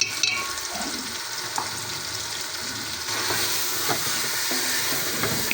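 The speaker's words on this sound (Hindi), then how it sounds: "इन्हें भी अच्छी तरीके से मिक्स कर लेते हैं" Red chili, turmeric, ground coriander, salt and tomatoes are stirred in about half a cup of hot oil for Hyderabadi chicken haleem, giving a steady soft sizzle with occasional scraping stirs and no talking.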